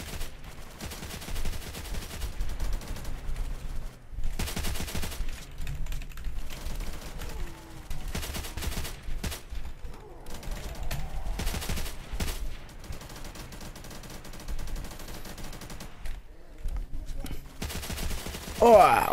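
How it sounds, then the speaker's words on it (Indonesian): Rapid gunfire in a Roblox zombie-shooting game, dense clicky bursts of shots repeating throughout under occasional talk. "Kita akan menembaki mereka semua."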